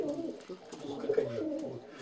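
Pigeons on a table coo softly in low, throaty murmurs, close by and fairly quiet, with light shuffling and faint background noise.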